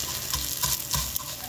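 Garlic browning in a pan for molokhia jute leaf soup: quiet, steady sizzling and frying crackle with soft rhythmic stirring scrapes.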